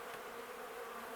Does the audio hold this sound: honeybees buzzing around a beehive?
yes